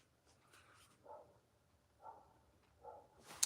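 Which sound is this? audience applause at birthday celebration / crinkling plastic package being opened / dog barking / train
dog barking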